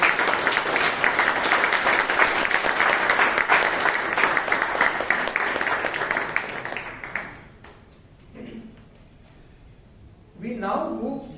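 An audience at a Toastmasters club meeting in Bangalore claps in a steady, dense round of applause that fades out, followed by a voice speaking.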